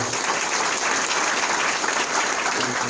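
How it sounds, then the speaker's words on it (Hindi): An audience at a business gathering claps for the event planners, a dense, steady wash of many hands that holds at an even loudness throughout, with no voices over it. "आज के जो प्लानर है उनके लिए भी जोरदार ताली होनी चाहिए"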